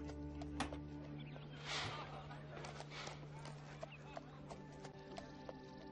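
Horse hooves clip-clop in the city-building game Zeus, a run of light, quick taps over steady game ambience and music, with speech present in the background.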